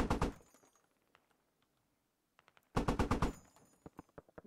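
A Pars III .50 cal machine gun firing in the video game Squad: two loud bursts of rapid heavy shots, one at the start and a longer one later, separated by near silence and followed by scattered thuds.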